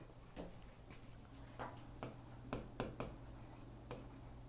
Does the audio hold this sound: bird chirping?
no